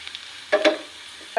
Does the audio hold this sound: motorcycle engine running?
no